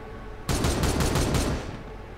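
A burst of rapid gunfire from the Warhammer 40,000: Regicide video game, about a second of loud, dense repeated shots that cut in sharply and then fade, with no talk.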